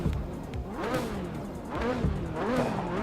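A racing car's engine revs up and down repeatedly as it drives in a racing video game, with pitch rising and falling through gear changes and corners.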